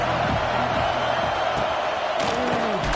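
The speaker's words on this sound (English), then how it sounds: "This crowd ready to make its presence known." Football stadium crowd roaring in a steady, continuous wash of noise with scattered louder shouts, heard up close and filling the whole moment.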